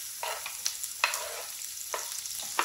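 Onions in hot oil in a pan for kaleji masala, a soft steady sizzle broken by several short bursts of stirring and scraping, fairly quiet and close.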